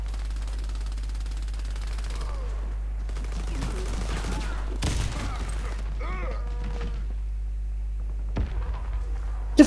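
Sniper gunfire in a video game rings out in a few sharp, isolated cracks spread across a low steady hum, the loudest shot landing near the end.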